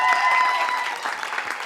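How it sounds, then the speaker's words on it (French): A crowd claps steadily in a short burst of dense, even applause, fairly close and loud. "Applaudissez pour le promoteur parce qu'il fait énormément."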